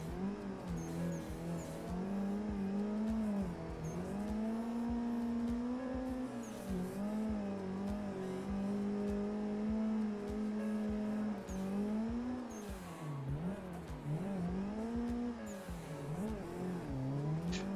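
A car drifts in the BeamNG driving game, its engine revving continuously with rising and falling pitch as it slides through turns and tires squeal, steady and fairly quiet throughout.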